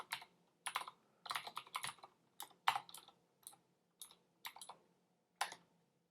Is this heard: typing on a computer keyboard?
yes